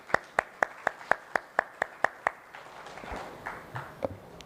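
A handful of people clap at a tourism investment event, about ten sharp, evenly spaced claps at first, then a looser scatter of softer claps and shuffling sounds fading out.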